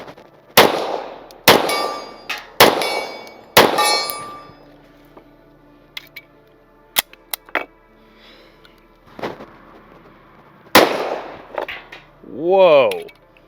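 Several sharp, loud gunshots from a Springfield 1911 Operator pistol, four in quick succession and then one more after a pause, each ringing out into a short metallic tail, with faint clinks and a brief voice between them.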